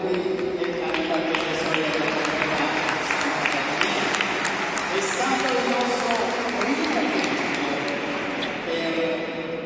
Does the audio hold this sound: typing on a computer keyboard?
no